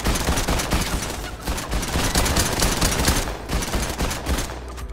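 Dense, continuous gunfire from a Fortnite match, with rapid overlapping shots and bursts that keep up at steady loudness with almost no pause.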